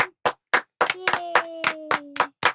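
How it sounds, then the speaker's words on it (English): A classroom of students claps in a rhythmic burst of about nine sharp, loud claps, with a brief sustained tone or voice running under the middle claps. "Claps."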